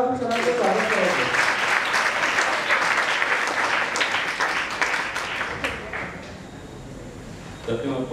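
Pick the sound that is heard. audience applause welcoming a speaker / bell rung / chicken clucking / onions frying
audience applause welcoming a speaker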